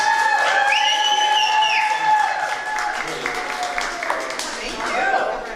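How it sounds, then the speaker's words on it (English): An audience at a live comedy show in Tulsa applauds and cheers, with clapping and whoops layered under tonal voices and shouts that rise and fall over several seconds. "Everybody, Cheyenne Walker, give her a round of applause."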